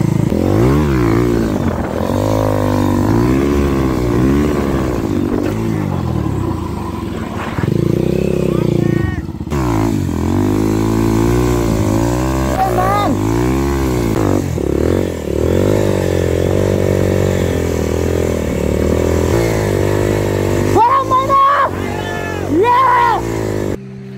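A motorbike ridden on a practice outing during a picnic, its engine rising and falling in pitch through repeated revs and gear changes, loud and close, with people talking over it throughout.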